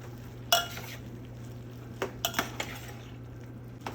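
Bhaji stirred in a pan after a finishing drizzle of coconut oil, a low steady hum under a few sharp clinks and scrapes of a spoon against the pan.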